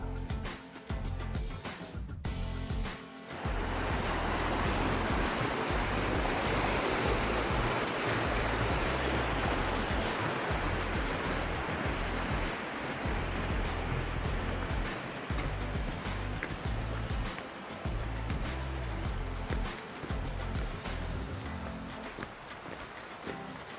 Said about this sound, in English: This is Kings Creek